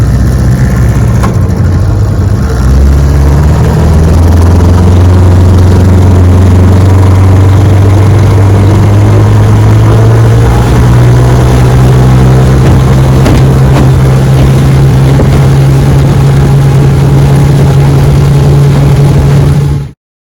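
Old Johnson Seahorse outboard motor running on a lake after restoration, a loud, steady low engine drone that holds throughout with a slight rise in pitch.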